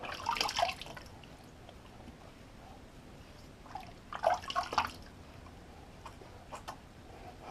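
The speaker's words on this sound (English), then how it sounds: "Let me just rinse that and I'll throw a little bit more lather on there." A razor rinsed under running water during a shave, with quiet splashing bursts at the start and again in the middle, plus faint drips between them.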